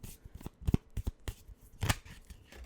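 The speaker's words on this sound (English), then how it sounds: "I was just shuffling." A deck of tarot cards shuffled by hand nearby, a run of quick, uneven riffling snaps and soft sliding flutters with no voice over it.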